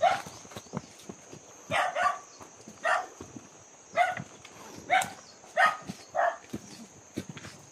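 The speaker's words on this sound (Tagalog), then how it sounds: "May aso dito." A dog on a street barks repeatedly at a steady rhythm, about seven sharp barks from a moderate distance, with a faint high hum in the background.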